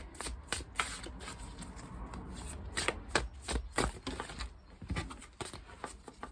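Stiff tarot cards shuffle close by in repeated riffles and soft flaps, an uneven patter of paper snapping against paper with no talking.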